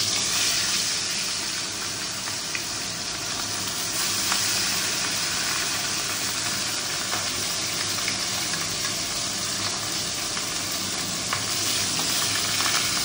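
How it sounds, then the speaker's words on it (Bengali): Fresh rohu fish pieces rubbed with salt and turmeric frying in hot oil, giving a loud, steady sizzling hiss with scattered pops that runs unbroken throughout, with no talking. "আর এখন নুন হলুদ মাখিয়ে মাছগুলো ভেজে নিই।"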